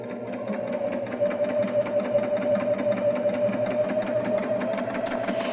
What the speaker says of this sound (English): So now I'm going to stitch down to the other corner.